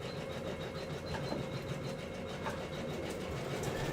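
A sewing machine runs steadily, stitching a zigzag seam on a garment's sleeve, with a continuous mid-level motor whir and no pauses.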